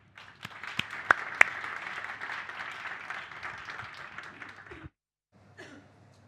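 Audience at a business launch event claps for about five seconds with a few sharp, close claps standing out, then stops abruptly before faint sound trails off.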